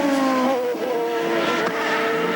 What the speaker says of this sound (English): A bunch of cars running together here.